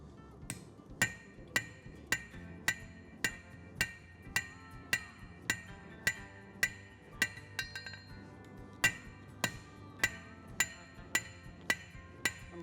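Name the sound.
cross peen hammer forging a hot steel kitchen knife blade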